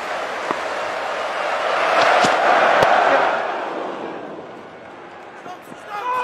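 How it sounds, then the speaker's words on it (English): A cricket crowd at an England versus Australia match cheers and claps loudly, a steady roar of voices and hand clapping that swells to a peak midway and then eases back, with a few sharper claps near the end. "Smiling faces all around, a lot of hand clapping, trying to will their team forward, trying to push their team to victory"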